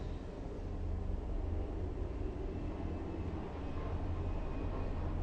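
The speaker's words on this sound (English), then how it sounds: "That plane? I could feel it shaking things here." An airplane flies overhead as a steady, low, rumbling drone that stays even and fairly faint throughout, with no talk.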